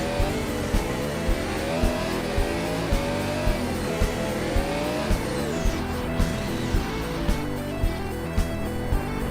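An F1 race car in a racing video game spins out on track, with a loud, steady engine roar and screeching tire squeal running throughout, and rhythmic clicks ticking underneath.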